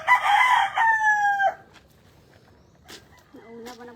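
A rooster crows loudly once at close range, its long harmonic call dropping off after about a second and a half, followed by quieter clucking and scattered farmyard sounds.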